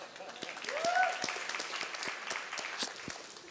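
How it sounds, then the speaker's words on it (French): Scattered applause from a church congregation at a sermon, fairly quiet and roomy, with a brief tonal whistle or squeak near the start and light voices mixed in. "Est-ce qu'on peut applaudir ma formidable épouse?"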